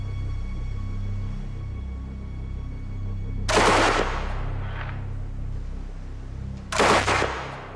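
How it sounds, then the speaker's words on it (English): Two loud, sharp gunshots about three seconds apart, fired at metal plate matching the thickness of the pilot and aircrew armour on a German night fighter, over a steady low background hum. "I'm shooting at metal plate the same thickness as the armour on a German night fighter"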